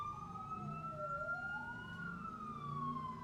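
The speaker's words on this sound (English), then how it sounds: "there's ambulance of some sort going by" An emergency vehicle siren, ambulance or fire truck, wails past outside, its tone sliding down and back up in slow sweeps over a low road rumble, moderately distant and steady.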